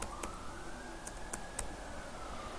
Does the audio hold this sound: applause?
no